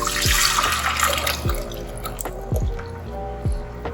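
Thick tomato sauce glugs into a pan for eggplant parmesan in a few separate pours, each with a falling wet gurgle, over a steady background hiss.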